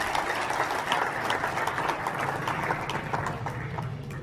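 A crowd at a Rajasthani Brahmin community Diwali gathering in Telangana claps steadily, a continuous moderately loud patter of many hands with no voices over it.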